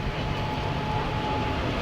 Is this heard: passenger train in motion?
yes